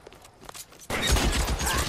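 Gunfire erupts in the L.A. Noire video game, a sudden dense volley of shots after a quieter opening with scattered sounds.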